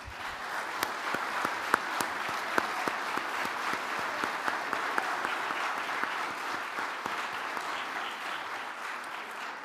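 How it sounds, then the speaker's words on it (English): Sustained audience applause for volunteers at an evening service, a dense even wash of many hands clapping throughout with a few sharper claps standing out, and no talk. "I'll give them all another round of applause, please"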